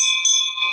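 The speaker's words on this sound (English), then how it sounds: "And you're going to repeat after me after I ring the bell." A hand bell rings out with a sustained, shimmering metallic tone, loud and close, during a group prayer gathering.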